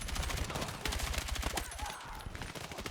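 Rapid automatic fire from the M433 rifle in Battlefield 6, loud close bursts of tightly spaced shots with a short pause in the middle before firing resumes, plus faint game effects in the background.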